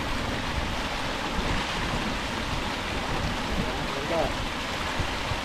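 A mountain waterfall fed by snowmelt roars in a steady broadband rush, constant and fairly loud; a voice speaks briefly over it.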